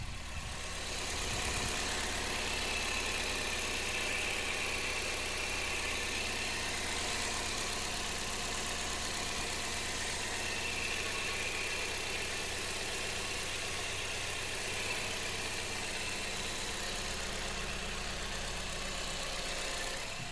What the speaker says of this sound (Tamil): வண்டியோட இன்ஜின் நாய்ஸ் நான் உங்களுக்கு மைக்கை பக்கத்தில் வச்சு எப்படி இருக்குன்றத இப்போ காட்டுறேன்.